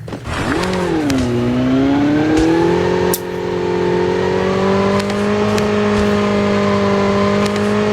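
Motorbike engine in Call of Duty Mobile revs up sharply, then holds a steady, loud, close harmonic drone that continues throughout with only slight pitch wavering.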